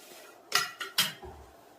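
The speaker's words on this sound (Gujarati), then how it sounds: "એમ વચ્ચે વાટકો મેક દેવાનો ઉપર ડીશ રાખવા માટે." Steel dishes and a bowl are set down for steaming dhokla, giving three quick close metallic clatters followed by a soft low thump.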